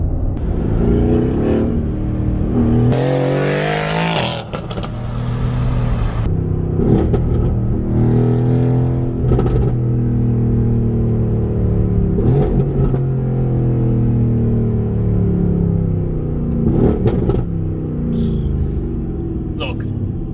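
Mercedes-AMG GT R engine rumbling and revving steadily for about twenty seconds, with swelling throttle blips over a deep drone, while a person talks over it throughout.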